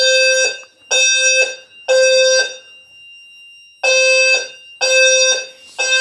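Fire alarm annunciator sounding loudly during a system test, a harsh electronic buzzing tone in a repeating pattern of three bursts, a pause, then more bursts, with no talking.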